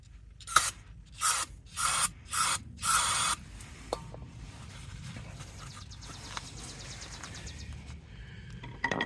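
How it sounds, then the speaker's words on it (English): Brake cleaner sprayed onto a stuck caliper slide pin in a series of five short, loud hissing bursts, followed by quieter faint dripping and rattling. "And hit that with a little brake cleaner."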